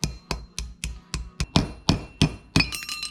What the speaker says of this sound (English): Probably help if I had the right hammer instead of the little tiny claw hammer.